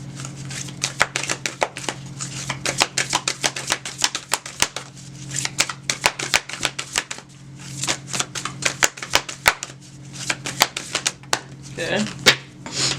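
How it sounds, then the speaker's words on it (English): Tarot cards are shuffled over and over in dense, rapid riffling clicks and slaps, close and steady for the whole stretch, with a voice talking faintly underneath. "one more shuffle."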